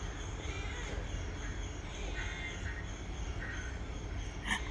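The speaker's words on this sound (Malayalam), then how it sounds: "ഇത് കാക്ക അവിടെ വന്നിരിക്കുന്നുണ്ട് കേട്ടോ, പക്ഷെ ഇങ്ങോട്ട് വരില്ല" Crows caw outdoors near a home, a few scattered calls at moderate distance over a steady background hiss, with no talk.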